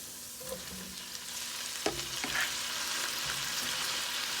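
Stir-fried ribeye chops and green beans scooped into a pan, a soft continuous sizzle with a couple of brief scraping knocks from the scoop, quiet and close.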